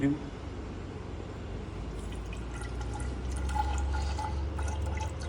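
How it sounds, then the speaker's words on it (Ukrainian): Liquid fertilizer is poured steadily into a container for a seed drill, a continuous trickling and dripping that grows slightly fuller toward the end, with a voice talking nearby. "Зараз наливаємо 50 мл."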